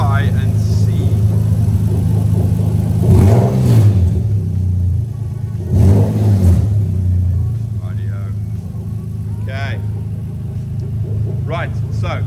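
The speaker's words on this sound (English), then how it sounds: "The engine's running nice and smooth" A Toyota 1JZ-GTE VVT-i engine swapped into a JZX100, idling smoothly with two brief revs rising and falling, heard from close by with a person talking over the running engine.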